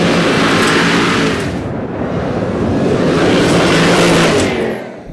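A 2021 Land Rover Defender V8 Carpathian with a supercharged engine accelerates hard, a loud, close roar of engine and rushing wind that dips briefly, surges again and then fades slightly at the end.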